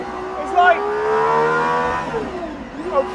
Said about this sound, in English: a proper motorsport engine